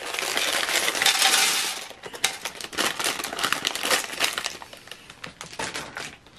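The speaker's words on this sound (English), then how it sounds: "So we got two bags dumped. And the third bag dumped." Small plastic building bricks from a 10259 set poured out of bags, a loud rattling cascade of many tiny pieces clattering onto a surface, followed by scattered clicks as pieces settle.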